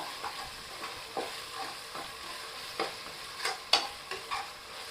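Garlic paste sizzles softly in a pan for chicken biryani as a ladle stirs it, with a steady low frying hiss and a few scattered scrapes and clinks.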